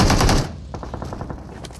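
Automatic gunfire from the mobile battle-royale game PUBG Mobile: a loud, close burst of rapid shots that cuts off sharply, followed by a fainter, quick run of distant shots fading out, with no voices.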